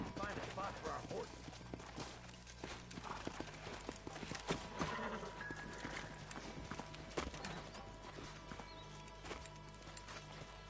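Horse hooves clip-clopping in the Red Dead Redemption video game, a steady rhythmic trot heard close up for the whole stretch, with occasional background voices.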